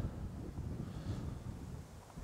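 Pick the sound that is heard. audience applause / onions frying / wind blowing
wind blowing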